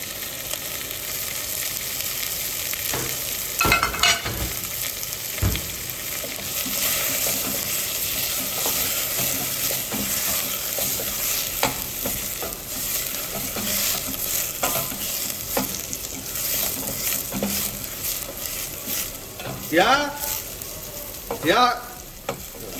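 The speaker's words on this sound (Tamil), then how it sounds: "வெங்காயத்தை போட்டு வதக்குறீங்க நல்லா" Onions sautéing in butter in a pan at the start of a creamy zucchini soup: a steady, close sizzle runs throughout, broken by scraping stirs and occasional clinks of a utensil against the pan.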